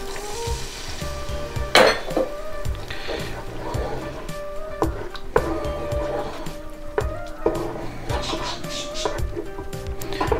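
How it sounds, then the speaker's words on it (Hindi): Water goes into a pan of masala for a malai chicken kofta curry, producing soft sizzling and bubbling broken by repeated metallic taps and clinks of a spoon against the cooking pan. "मसाले में मैं थोड़ा सा ऐड करूंगी वाटर"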